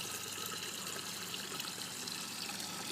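Water pouring steadily into planting holes dug in dry ground for tomato plants, a continuous close gushing and trickling with no break and no talk.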